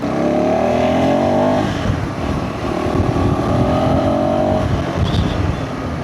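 A KTM motorcycle engine and exhaust roar loudly while riding, revving up with a rising pitch, easing off, then pulling again, with wind noise and no voices.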